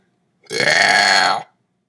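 A single long, loud burp from a girl rolls out close to the ear for about a second, then cuts to silence.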